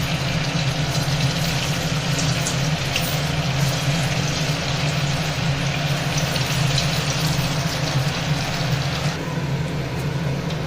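Sabudana pakoras frying in hot mustard oil, a steady broadband sizzle that stays constant and fairly loud throughout, with a low background hum beneath and no talking.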